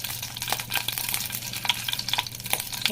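Hot oil sizzles close by while mustard seeds crackle and pop in quick, irregular bursts, tempering for a chutney.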